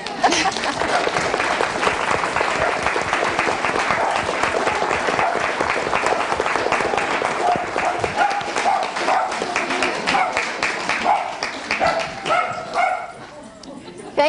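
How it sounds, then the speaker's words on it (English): An audience at a talk applauds with sustained, dense clapping from many hands, loud and continuous for about twelve seconds before thinning out, with a few voices mixed in near the end. "Should we give Helen a round of applause?"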